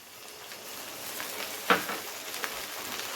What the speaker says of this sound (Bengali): টমেটোটাকেও পেঁয়াজের সাথে একটু ভালো করে ভেজে নিতে হবে